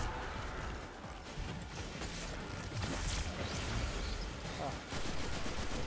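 Gunfire in the video game Destiny 2, a dense, continuous rattle of rapid shots and impacts filling the whole clip at a steady, fairly loud level, with no clear pauses.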